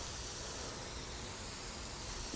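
Dirt terrain paint being sprayed in The Sims 4, a continuous soft airy hiss that stays even and unbroken throughout, with no talking.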